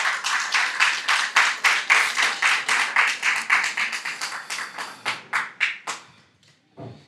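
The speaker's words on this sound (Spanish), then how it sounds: "¿Cuántos le regalan palmas al Señor?" A church congregation claps in steady unison at a Sunday service, about two to three claps per second, loud and rhythmic, then thinning into a few scattered claps before fading out.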